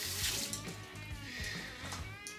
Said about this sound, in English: And wash that grease off my hands.